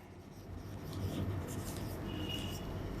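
Chalk or marker scraping across a classroom board during a rational-number lesson, a steady near rubbing sound lasting the whole clip with no talking.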